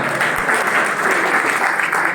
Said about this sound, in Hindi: सभी सीनियर जनों के लिए जोरदार तालियां